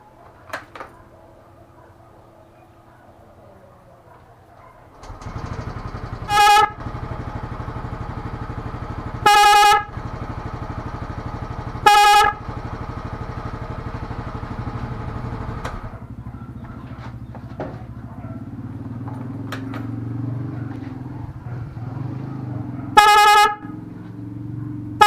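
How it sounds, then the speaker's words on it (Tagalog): A single snail horn wired through an interrupter relay gives four loud, bright blasts with a clear harmonic stack, three close together and one later, each about half a second. A steady low engine rumble runs underneath. "ito yung snail horn"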